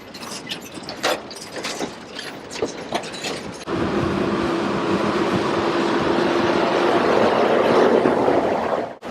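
A Cat CT630LS road train hauling loaded double-decker cattle trailers rumbles along, first with rattling, clattering bumps and knocks, then settling into a loud, steady engine drone with a sustained tone, close and continuous.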